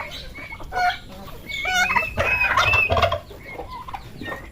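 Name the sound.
turkeys gobbling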